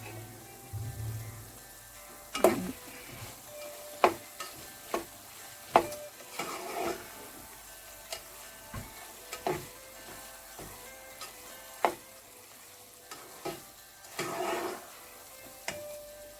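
Ground egusi melon seeds frying in oil, sizzling steadily while a utensil scrapes and knocks against the pot in repeated sharp strikes, close and fairly quiet, with no talking.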